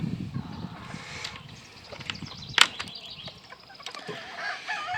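Chickens in a backyard poultry yard with hens and a muff cross rooster, soft scattered clucks and a sharp wing flap or squawk midway over quiet outdoor ambience.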